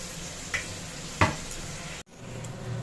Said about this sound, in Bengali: এইদিকে দেখো মশলা দিয়ে এটাকে কষিয়ে নিচ্ছি।